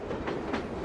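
A PATH commuter train in New York rolls along steadily, a continuous rumbling roar with faint rhythmic clatter, moderately loud and unbroken throughout, with no voices.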